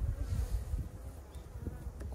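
Honeybees buzz at their hive in a dense, continuous drone close by, a low hum swelling and dipping as many insects move around together.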